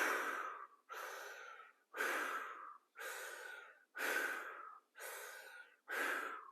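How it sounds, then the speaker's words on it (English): Circular breathing exercise with close, audible breaths: seven full inhale-exhale cycles roll into one another with no pause at the top or bottom, and no one talks. "So for circular breathing,"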